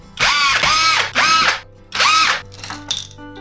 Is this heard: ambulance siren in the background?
no